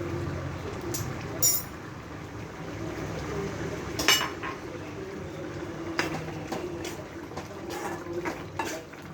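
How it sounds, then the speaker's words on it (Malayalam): A spoon stirs potato curry with garam masala in a pan, giving soft scraping and a few sharp metallic clinks at irregular intervals over a low background hiss. "എന്നിട്ട് ഒന്ന് ഇളക്കി കൊടുക്കാം."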